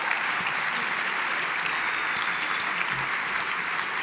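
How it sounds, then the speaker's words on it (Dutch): A crowd claps continuously and loudly, a thick, even wash of applause that holds steady for the full length without speech. "Heel goed, een applaus."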